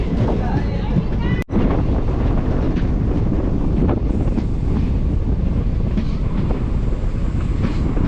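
A passenger train on the Kolkata–Haldibari route runs along at speed, giving a loud, continuous rumble and rush of wheels and wind, with one brief dip partway through.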